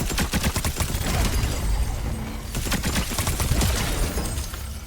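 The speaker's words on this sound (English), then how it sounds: "Alright, so clean explosion right here." A video game team battle erupts into a rapid, dense burst of explosive bangs and crackling blasts, loud and chaotic, rising and falling over a few seconds with no voices.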